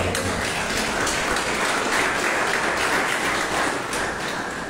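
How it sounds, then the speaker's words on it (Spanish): A church congregation applauds in a dense, steady wash of clapping that holds at an even level throughout, with no voices standing out. "Den un aplauso al Señor que se lo merece"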